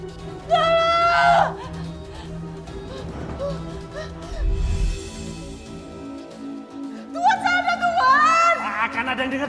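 Woman screaming loudly at night, two bursts of shrill, wavering cries at the start and end, over a steady background drone, with voices talking in between.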